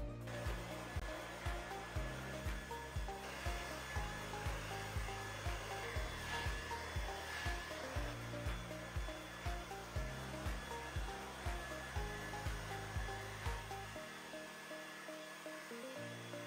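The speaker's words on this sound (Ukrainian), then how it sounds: "Зараз ми без проділів будемо просушувати спочатку основну частину волосся і прикореневу зону" 3-in-1 hair dryer brush drying hair, a continuous close whirring blow with a high whine, its tone pulsing rhythmically as the brush moves through the hair, before the airflow drops toward the end.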